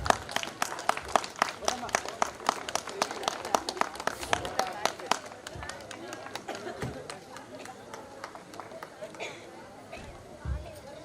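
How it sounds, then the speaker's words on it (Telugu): A church audience claps loudly and steadily, dense close applause fading slowly over several seconds amid crowd murmur, while a voice speaks over it. "చప్పట్లు కొట్టాలి గట్టిగా"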